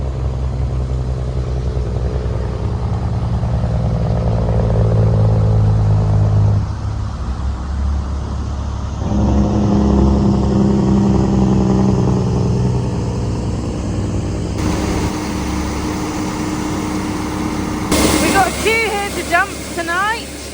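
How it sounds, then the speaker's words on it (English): A truck arriving at a harvest field adds a low, shifting engine rumble to the steady drone of farm machinery, its tone changing as it draws closer. "Here comes another truck."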